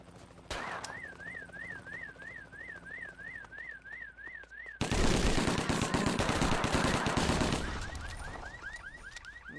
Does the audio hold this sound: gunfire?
yes